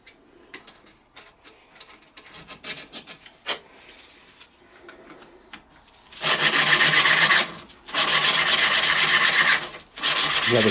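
Steam boiler clack valve being lapped with coarse grinding paste, quiet scraping and tapping at first, then two loud bursts of rapid rhythmic rasping grind close by.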